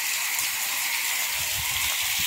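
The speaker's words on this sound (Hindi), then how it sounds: "बारिश बहुत ज्यादा हो रही है" Heavy rain falls over a flooded farm field, a dense, steady hiss of downpour filling the scene with soft low patter underneath.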